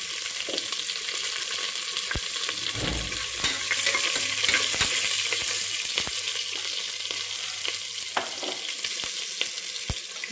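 Curry leaves and a pinch of asafoetida fry in a pan for rice-and-dal, giving a steady sizzle with occasional sharp crackles and spatula clicks, close and continuous with no talk.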